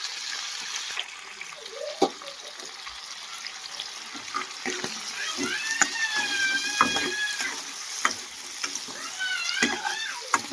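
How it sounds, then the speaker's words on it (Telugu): Ivy gourd fries in reddish oil in a home kitchen pan for chutney, giving a steady, soft sizzle with scattered clicks and stirring while someone talks over it. "ఇంకా ఆ విధంగా అయితే వేగుతాను కదా, ఒక 5 minutes బాగా వేపేసుకున్నాము."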